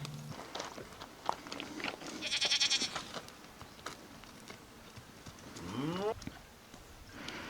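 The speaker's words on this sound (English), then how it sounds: "Just put them in with the goats for the day" Goats on a farm bleat intermittently, with one clear wavering bleat near the end, mixed with nearby rustling, hoof sounds and people talking in the background.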